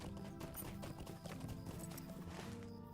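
Horse hooves clip-clop in a steady walking rhythm inside the fantasy MMO The Lord of the Rings Online, with faint neighing and game music underneath and no one talking.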